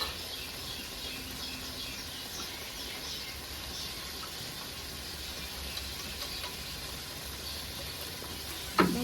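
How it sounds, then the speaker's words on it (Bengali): Fried potatoes sizzle as they are stir-fried in a fish curry gravy, a low, even frying crackle and hiss held throughout, fairly quiet, ending in a sharp clatter of a utensil, with no talking. "এবারে আমি ভেজে রাখা আলু দিয়ে দেবো, সঙ্গে কষে নেবো"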